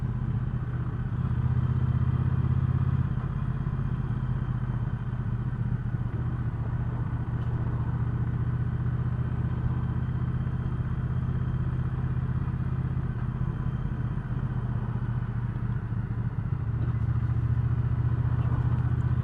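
A 2019 Triumph Speedmaster motorcycle engine rumbles steadily on a test ride at low gears and light throttle, a continuous low drone with wind noise, heard alone without speech throughout.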